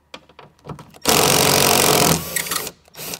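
A power driver whirs loudly for about a second, loosening T40 bolts on a Tesla Cybertruck door mirror, with a short trailing buzz after it and light clicks and handling noises close by before and after.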